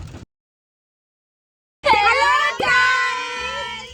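A vehicle horn gives a loud, sustained blast after a moment of silence, briefly breaks, then continues strongly, close by, at the start of a trip in a pickup through forest.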